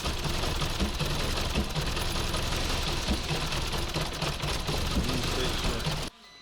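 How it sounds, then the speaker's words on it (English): A Škoda Octavia 2.0 FSI engine with low fuel pressure idles unevenly with a rough, knocking rattle and shaking, steady and close, before cutting off abruptly near the end. "But the engine shakes."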